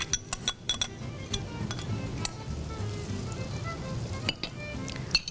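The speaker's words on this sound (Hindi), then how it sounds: "इसको थोड़ा सा फ्राई करेंगे कि प्याज की जो रॉनेस है वो ख़त्म हो जाए" Chopped onions with mixed garam masala frying in a pan, giving a steady low sizzle under scattered metallic clinks and taps of a stirring utensil, close-up and without voices.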